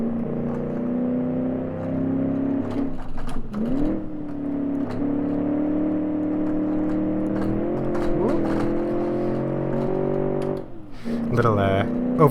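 In the BeamNG.drive video game, the engine of a Bay12 Motors Minecart holds a steady, buzzing drone in first gear as it powers out of corners, rising in pitch now and then, close up, with someone talking over it.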